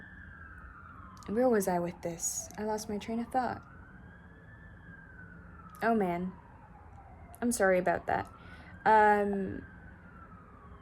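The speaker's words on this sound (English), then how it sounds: "I can hear the siren very well now, and I can hear its piercing sound" Emergency vehicle siren wailing at a distance, a slow rising-and-falling tone running steadily throughout beneath someone talking in short bursts.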